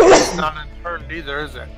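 A single loud, close sneeze bursts out, then people talk right after it.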